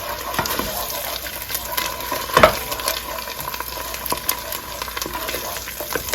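Tinned tomato paste fries in a pot for Nigerian party jollof rice, giving a steady close sizzle with light stirring clicks and one louder scrape midway.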